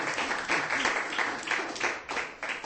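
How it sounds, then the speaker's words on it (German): An audience at a local history event in South Tyrol breaks into clapping, heard as a close, uneven burst of claps that rises and falls in loose pulses over a couple of seconds. "Da kommt schon der erste Applaus normalerweise."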